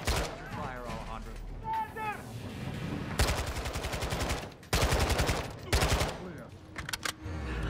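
Bursts of automatic gunfire from a Call of Duty: Modern Warfare II firefight, coming in several loud rapid rattling volleys separated by brief pauses, with game voices speaking early on.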